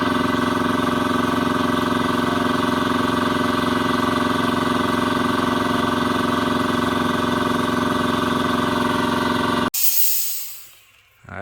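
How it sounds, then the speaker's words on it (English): A McGraw air compressor runs loud and steady as it fills its tank, a constant droning motor hum with hiss, then cuts off abruptly and a short fading hiss of released air follows. "now the air compressor's just filled up"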